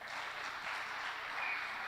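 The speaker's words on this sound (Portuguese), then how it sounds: "Quem acha que o melhor e o maior jogador de todos os tempos aqui, entre esses dois, é o Cristiano Ronaldo? Bata palmas aí, vai." A church audience claps during a sermon, a dense, steady wash of many hands held at a fairly soft, even level for about two seconds with no break.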